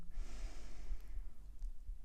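A slow, deep breath drawn in during a gentle beginner yoga session, a soft, airy rush that swells and then eases off over about two seconds, close and steady with no talking.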